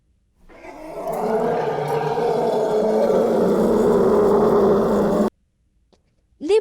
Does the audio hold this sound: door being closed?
no